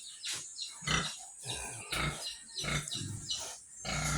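Piglets in an elevated farrowing pen on a farm grunt and squeal in repeated short bursts, close and fairly loud, with a busy overlapping rhythm.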